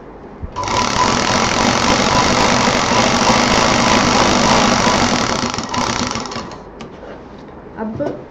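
A sewing machine stitches thick cloth for a homemade door mat, a loud continuous mechanical whir for about six seconds that then slows and stops, followed by a few faint handling clicks.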